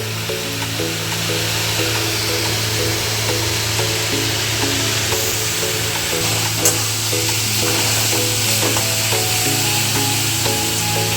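Shredded cabbage frying on a medium to high flame makes a loud, constant sizzle under a steady hum, with occasional spatula scrapes and no voices throughout.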